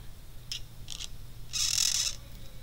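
A felt-tip marker squeaks on card stock while colouring leaves, in a few short, high squeals, with one longer squeak near the end, over a quiet background hum.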